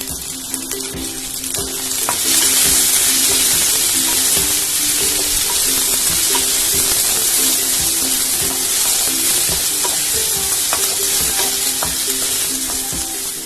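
Sliced onions and potatoes fry in oil in a pan while being stirred, a loud, continuous close sizzle with scraping stir noises scattered through it and no voices.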